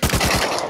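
An AK rifle fires a quick burst of about six evenly spaced, loud, close shots in the game Rust.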